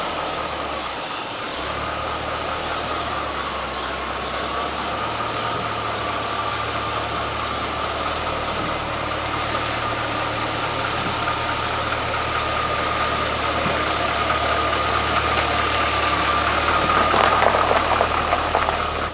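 An abandoned C5 Corvette, revived after years of sitting, idles steadily on a hoist for the whole stretch, a loud, even low drone that swells slightly toward the end, with no talking.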